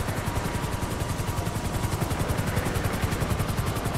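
Helicopter in GTA 5 at a firefighter car-accident rescue, its rotor beating in a steady fast chop with engine whine throughout, close and continuous, no voices.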